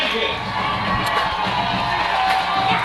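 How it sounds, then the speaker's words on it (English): A high school football crowd at Maury Stadium cheers and whoops at moderate distance, a sustained roar of voices with occasional shouts rising above the steady swell. "Crowd coming to life here at Maury Stadium."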